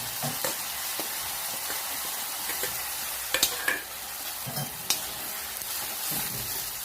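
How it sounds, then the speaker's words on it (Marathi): Onion, garlic, ginger and whole spices stirred in hot oil, a steady sizzle with scraping spoon strokes and a few sharper clinks against the pan, close by with no talking. "जोपर्यंत लालसरपणा येतो तोपर्यंत चांगलं मिक्स करून घ्यायचं तेलामध्ये"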